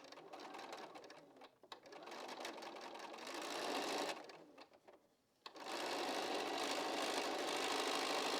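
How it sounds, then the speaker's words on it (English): Close and steady, a sewing machine hums as it stitches sashing strips to quilt block units, running in long continuous stretches with one brief slowdown and pause before it picks up speed again. "And now we take the sashing within the block and sew them to these units."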